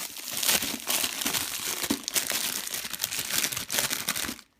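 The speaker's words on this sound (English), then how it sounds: "Crinkle. Lots of crinkle." Plastic bag wrapping crinkles and crackles almost nonstop at close range, loud and busy with brief dips, ending abruptly in near silence.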